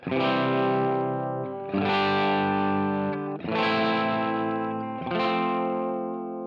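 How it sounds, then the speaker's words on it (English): An electric guitar through a Line 6 Helix tremolo auto-pan effect plays four sustained, ringing chords, each swelling and pulsing in volume with a wavering shimmer, loud and alone without any voice. "One being a Tremolo Auto Pan, and this is what that sounds like"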